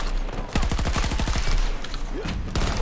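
Pistol fire from the Battlefield 2042 shooter, with a rapid train of punchy shots that repeat quickly over a dense, loud battle din.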